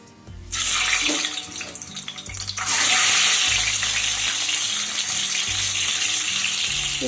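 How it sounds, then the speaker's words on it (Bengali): Three scored eggs hit hot refined oil in a wok, setting off a loud, steady sizzle and crackle that begins abruptly and swells after a few seconds, continuing densely with no talking. "এখন আমি এই তিনটে ডিমকে ভেজে নেব"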